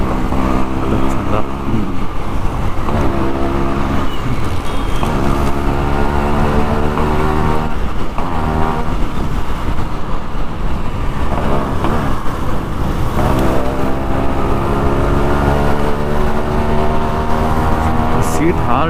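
Yamaha RX135 two-stroke motorcycle engine revving loudly and steadily throughout, with a buzzy rising and falling drone close by and no pauses.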